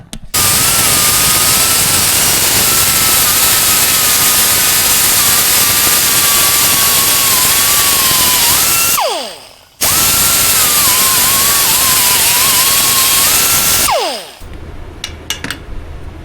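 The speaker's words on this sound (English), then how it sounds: "Just grind down that." A power grinder wears down metal on a Kubota mini excavator during bushing replacement, loud steady high whine running continuously, briefly stopping and winding down, then resuming before spinning down again with a few clicks.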